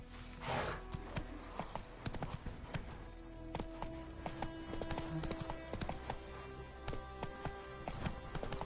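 Horse in The Witcher 3 video game galloping, with a steady run of rhythmic hoof clip-clops at moderate level over faint game ambience, without speech.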